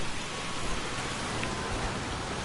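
Steady rain during a storm in a dinosaur video game, a continuous dense hiss of falling rain with no breaks or voices.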